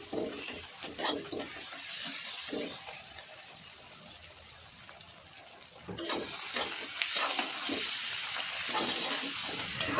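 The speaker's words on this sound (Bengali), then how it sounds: "ভালো করে নাড়াচাড়া করে নেব আদা রসুনের কাঁচা গন্ধটা যতক্ষণ না বেরোচ্ছে" Ginger garlic paste stirred and frying in a pan, a soft steady sizzle broken by scraping spoon strokes that grow busier in the second half, close and fairly quiet with no talk.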